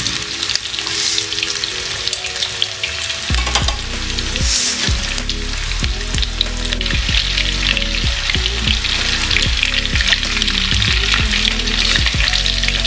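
Chicken 65 deep frying in hot oil gives a loud, steady sizzle throughout, with clanking tongs turning the pieces in the pan.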